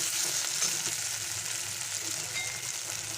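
Gobindobhog rice khichuri with chopped tomato and chili powder sizzles in a wok, a close, steady hiss of frying oil that carries on without pause and without talk.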